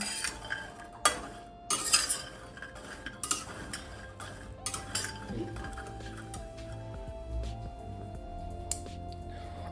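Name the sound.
dry fruits being roasted and stirred in a pan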